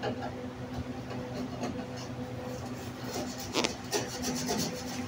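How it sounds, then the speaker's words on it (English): Steady rubbing and scrubbing strokes on a surface while cleaning a restaurant, a continuous rasping texture with a few sharper scrapes, fairly quiet and close with a faint background hum. "She scratches, scratches, scratches, scratches."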